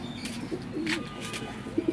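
Jammu pigeons with feathered feet coo softly and intermittently, a few low throaty calls close by, with light rustling and a brief chirp in the background.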